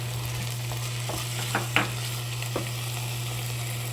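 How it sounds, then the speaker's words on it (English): Beef chili simmering in a pot as minced garlic is stirred in, a steady sizzle and bubbling with a few soft scrapes and clinks of the spoon against the pot, over a constant low electrical hum. "More minced garlic, mix it in"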